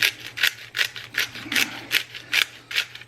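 A pepper grinder cracks pepper over Brussels sprouts in about eight quick, evenly spaced gritty twists, close and fairly crisp against a faint background hum, with no talking.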